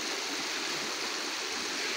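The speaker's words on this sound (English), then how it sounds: "I'm just got some running water here. I'm watching the creek." A creek's running water rushes steadily and close by, a dense, even broadband wash that stays constant throughout with no voices.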